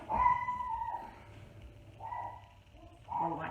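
Dogs whine and yelp in short high-pitched bursts, one near the start and more after two and three seconds, fairly faint against a quiet room.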